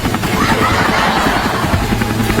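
A large helicopter in flight gives a loud, steady rotor roar that holds a constant dense drone for the whole stretch, with no voices over it.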